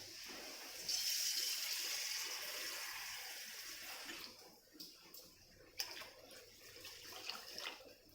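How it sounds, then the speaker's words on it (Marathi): Water is poured into a vessel of soaking rice and dal, a steady rushing gush for several seconds that then eases into softer sloshing and drips. "पुरा भांड भरून पाणी ओतायचं आहे"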